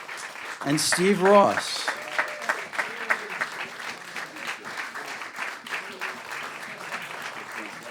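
Audience at a cabaret concert at 54 Below in New York applauding the cast, steady and full applause that continues while a man announces performers' names over it.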